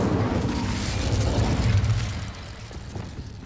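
The Incendio fire spell cast in the video game Hogwarts Legacy, a loud roaring whoosh of flame with crackling bursts that swells, then fades into a softer rumble.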